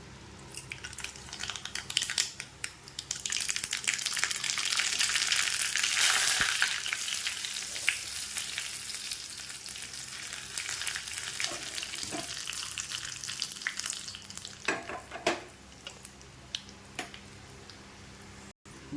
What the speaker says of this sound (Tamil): சட்னிக்கு ஒரு தாளிப்பு ரெடி பண்ணிடலாம்.